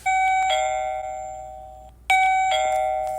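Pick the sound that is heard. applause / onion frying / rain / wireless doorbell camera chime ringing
wireless doorbell camera chime ringing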